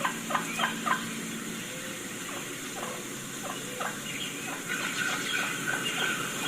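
Recorded wild turkey calls, faint and distant: a string of soft, short clucks and yelps over a steady background hiss.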